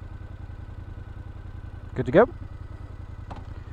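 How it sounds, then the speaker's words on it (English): Motorcycles idle on a road trip at the Grand Canyon, a low steady engine rumble running throughout, with a person briefly speaking over it partway through. "Motorbikes."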